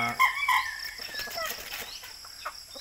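Chickens in a farmyard, faint clucking and crowing-like calls with a burst of wing flapping early on, mixed with low background noise.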